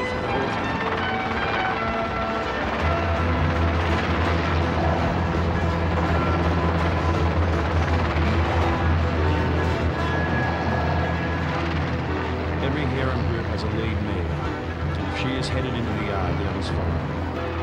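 A helicopter mustering wild brumby horses, its steady rotor and engine drone holding loud and continuous throughout.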